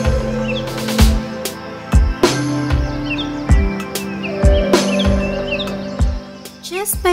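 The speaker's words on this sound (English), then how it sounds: "Just by listening to the chirping of the birds and gentle breeze from the trees" Birds chirp in the trees of a botanical garden, with scattered short calls over a steady hum and repeated louder thumping sounds.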